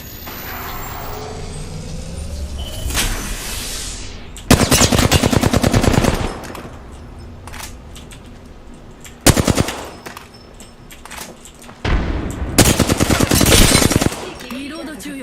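Rapid automatic gunfire rattles in three loud, close bursts of about one to two seconds each during an Apex Legends match, separated by quieter stretches of game ambience and a swooshing effect near the start.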